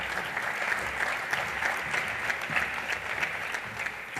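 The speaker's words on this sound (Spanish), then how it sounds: "Fuerte aplauso para Cristina Villasante de Écija." An audience at a blockchain conference in Cartagena applauds steadily, with dense, even clapping that holds at a moderate level for a few seconds and no voices rising above it.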